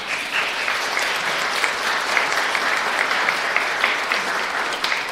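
A church congregation applauds to welcome members back from abroad during a combined Sunday service, a thick, even roar of clapping hands sustained from start to finish, no voices over it.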